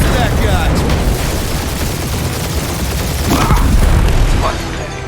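Heavy gunfire and booming blasts in the Guardians of the Galaxy video game, a dense, loud, continuous barrage of shots and explosions.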